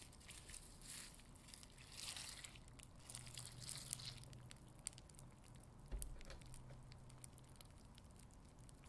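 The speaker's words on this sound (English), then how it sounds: "Rice Krispies, Snap, Crackle, Pop." Rice Krispies cereal crackles softly in milk, a faint, steady patter of tiny snaps and fizzing pops heard up close with a few slightly sharper clicks.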